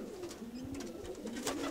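Pigeons cooing steadily outdoors in a village in Galanada, Kozani, Greece, a low repeated throaty coo running through the whole stretch with faint background ambience.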